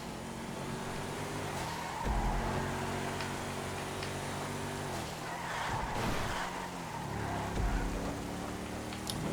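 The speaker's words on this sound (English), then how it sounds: "That is a big crash." Race cars roar and rev continuously in a GTA online race, engines shifting pitch with tyre squeal and brief thuds and scraping bursts of a crash amid the racing, loud and up close, with no talking.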